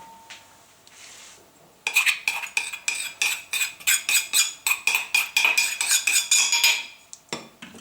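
Finely ground dry nuts are scraped into a metal vessel with a spoon, producing a quick rhythmic series of close, loud metallic scrapes and clinks that lasts several seconds before stopping.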